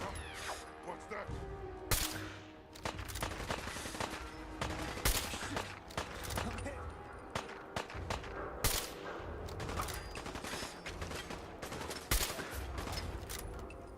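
Bursts of automatic and single-shot gunfire in the Fallout 4 video game, sharp repeated cracks at moderate distance with a voice talking intermittently over the shooting.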